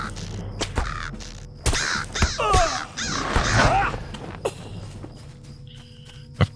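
Crebain crows cawing in the Lord of the Rings Online video game, harsh calls rising over a game soundscape with footstep-like thuds, with a voice talking across part of it.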